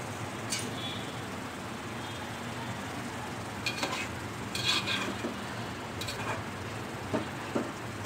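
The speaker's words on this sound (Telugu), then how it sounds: "మంచిగా అన్నీ కలిసేంత వరకు బాగా కలుపుకోవాలి." Vermicelli upma being stirred in a pan, with a soft, constant sizzle and a few scattered light scrapes and taps of the spoon against the pan, all fairly quiet.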